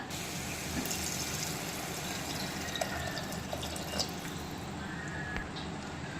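Water pours steadily into a pot of basmati rice for tomato biryani, a continuous close splashing stream with faint clinks.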